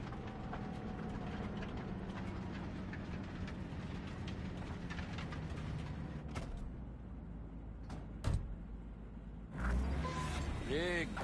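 A train rumbles through a Cyberpunk 2077 game scene, a steady low rolling drone for several seconds, then quieter passages with a few sharp clanks and a louder mechanical surge near the end.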